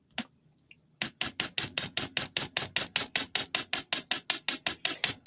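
After a single tap and a pause, a fast run of sharp, even hammer strikes on jewelry wire starts up and continues steadily to the end.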